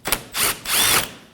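A power tool whirs in three short bursts, each rising and dropping, while removing 10mm bolts from the front bumper of a 2014-2020 Acura MDX, close and fairly loud.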